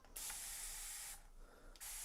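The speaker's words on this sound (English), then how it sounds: "I like that because the spray lasts a lot longer than you think it would." Spray cleaner squirts from a bottle during washing up, two sharp hissing bursts, the first long and the second short, heard up close and alone.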